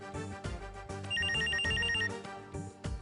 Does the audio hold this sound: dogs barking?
no